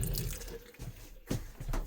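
An RV bathroom faucet runs with a steady splashing hiss, water hitting a basin nearby, with a few brief louder gurgles.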